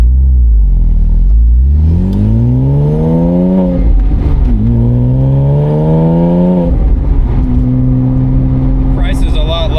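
A Porsche Boxster S 987.1 fitted with a Circuit Werks stainless steel exhaust revs up loudly and close, climbing and falling through three or four distinct throttle blips before settling into a steady higher idle.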